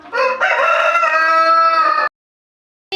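A large BP-breed rooster crows once, loud and close: a long, ringing cock-a-doodle-doo lasting about two seconds, then silence before another call begins.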